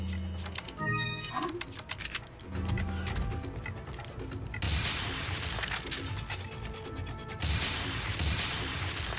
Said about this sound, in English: I love that glass breaking sound.